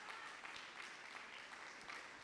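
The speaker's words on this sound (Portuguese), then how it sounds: "Quem recebe a palavra, aplauda o Senhor em nome de Jesus" A church congregation applauds, a dense, steady wash of many hands clapping at a distance, faint and even throughout without talk.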